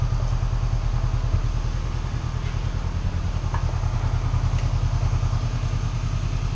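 A Yamaha MT-07 motorcycle with an aftermarket exhaust rumbles into a garage, its loud, steady low engine throb pulsing evenly throughout.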